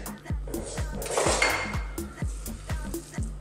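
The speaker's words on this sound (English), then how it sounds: "I've got a saucepan here, a touch of that oil in. Simply going to drop our meat in." Minced beef dropped into a saucepan with a little oil, giving a brief burst of sizzle over a steady run of regular clattering knocks from the kitchen.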